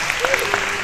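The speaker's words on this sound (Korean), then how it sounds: "우리 찬양팀에게 큰 박수 보내주시기 바랍니다" Applause for the worship team at a monthly youth and university students' joint worship service: a short, dense burst of clapping with scattered sharper claps, heard alone without talk.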